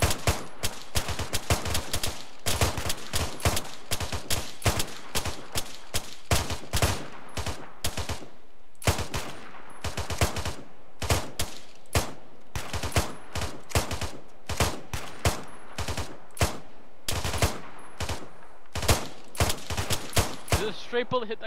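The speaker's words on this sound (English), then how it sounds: "Right, section, orient 60 degrees, 700 meters, 8 man section, rapid fire" Tactical shooter battle with an eight-man infantry section firing rifles rapidly: dense, loud, overlapping cracks in quick uneven bursts for over twenty seconds, with brief snatches of voice mixed in.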